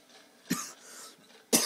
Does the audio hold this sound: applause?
no